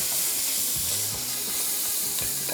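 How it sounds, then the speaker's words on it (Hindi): Butter and chopped garlic sizzle in a hot pan for pasta Alfredo, a dense, steady frying hiss with faint crackles and stirring scrapes, close and loud, with no voices. "सबसे पहले इसमें हम शामिल कर रहे हैं मक्खन, इसके बाद इसमें आ जाएगा लहसुन चॉप किया हुआ"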